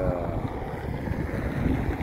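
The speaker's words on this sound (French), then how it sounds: "Le vent est trop violent." Strong violent wind blows across a coastal dune near Portimão, a dense rumbling gust buffeting the microphone with continuous low roar and no talk.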